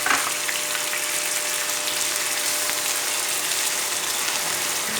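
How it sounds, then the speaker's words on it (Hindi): Diced potatoes sizzle in a pan with roasted cumin, a steady close-up frying hiss that continues evenly throughout. "आलू को भी रोस्ट करेंगे।"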